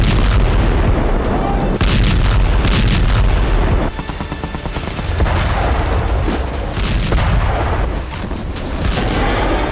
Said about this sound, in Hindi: हमास ने उस पर बम से जोरदार हमला किया